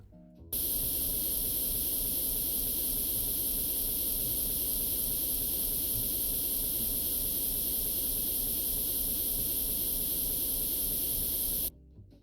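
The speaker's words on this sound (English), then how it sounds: "Let's just spray that." Steady, loud hiss of a spray gun painting a tank in Tank Mechanic Simulator. It starts abruptly, runs unbroken for about eleven seconds and then cuts off, with no talking over it.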